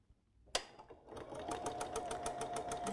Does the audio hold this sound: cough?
no